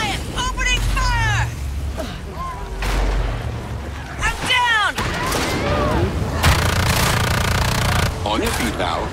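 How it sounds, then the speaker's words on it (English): Loud gunfire and heavy booming blasts in the multiplayer shooter Evolve fill the mix, rumbling continuously while in-game character voices talk over the top. "Goliath, opening fire."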